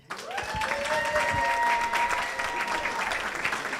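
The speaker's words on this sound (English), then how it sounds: "You got a cheer section going." Audience at a school board of education work session breaks into warm applause with some cheering, clapping swelling quickly and holding steady before easing off slightly, with a few voices mixed into the crowd.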